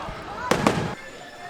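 Fireworks bursting at a Disney park, a quick cluster of loud pops and crackles lasting about half a second amid steady crowd murmur, then fading back to ambient park noise.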